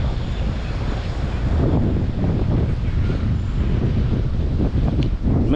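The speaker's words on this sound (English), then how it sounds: "can you hear that wind? It's blowing." Strong wind blowing on the oceanside outskirts of Durban, buffeting the microphone in a loud, continuous rough rush with a surf-like roar underneath and no clear talk.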